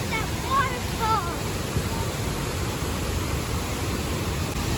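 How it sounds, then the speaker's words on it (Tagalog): A waterfall pours with a constant broad hiss of rushing water, under brief chirpy voices and crowd sounds near the start. "look at that waterfall"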